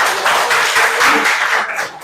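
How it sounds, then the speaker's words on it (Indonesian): Classroom applause in a lesson on ijtihad and following a legal school, from an Indonesian trainee-teacher session: a short, dense burst of many hands clapping at once, close and lively, swelling briefly and fading after about two seconds. "Oke, tepuk tangan"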